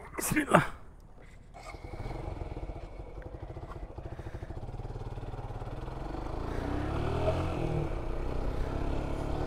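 A motorcycle ridden along Tunnel Road hums with a steady engine drone that builds slightly as it moves. A sharp burst of noise comes near the start, and speech runs over the engine.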